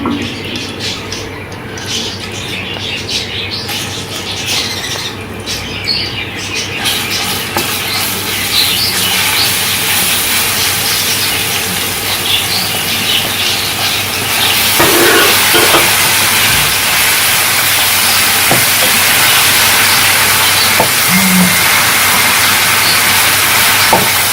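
Ginger-garlic paste sautés in hot oil in a pan for a yogurt-eggplant dish, giving a continuous close hiss and sizzle that grows louder and fuller about halfway through, with no talking.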